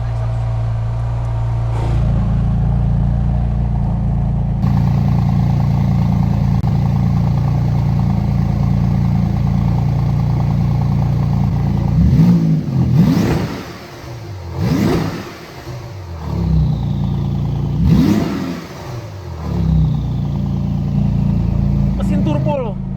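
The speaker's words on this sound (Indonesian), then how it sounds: "Ini mesin turbo, suaranya ngeri, jujur ngeri banget." Porsche 911 GT2 RS turbocharged engine idling steadily, then revving sharply in three or four loud bursts that rise and fall, with people talking over the low rumble.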